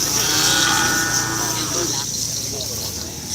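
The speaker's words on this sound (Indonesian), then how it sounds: "Ini ada sapi baru, Mas." A new cow lows in a long, drawn-out moo at a morning bull-race practice track, loud and close for about two seconds before fading into outdoor ambience, with faint voices in the background.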